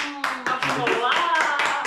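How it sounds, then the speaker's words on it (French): A few hands clapping close by in quick bursts, several sharp claps about a quarter second apart, mixed with a person's voice speaking over them. "Tu peux applaudir."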